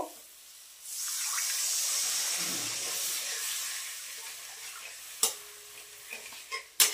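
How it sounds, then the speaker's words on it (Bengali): Water poured into a pan of well-fried sizzling spice masala, a sudden loud hissing surge of steam that settles into a steady simmer, then a few clinks of a stirring spoon. "এবার আমি এটার মধ্যে জল দিয়ে দেব।"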